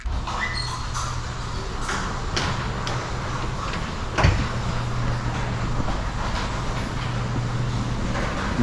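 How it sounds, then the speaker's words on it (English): A locomotive cab door is worked open amid a steady, loud engine rumble and hiss, with a single sharp clunk near the middle and faint rattles throughout. "Now I'll just pop the door open, get some fresh air in here."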